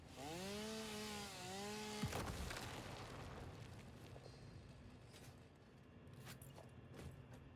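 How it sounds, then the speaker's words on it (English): A chainsaw in a video game starts with a rising, wavering motor whine and then chews steadily into material, a loud, gritty cutting roar that carries on continuously under scattered clatter. "I gotta see if I can get rid of these with the chainsaw"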